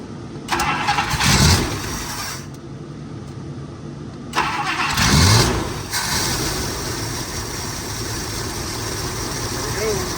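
A 1958 Buick Special, unused for two years, cranks over in two bursts and then catches and settles into a steady, loud idle close by.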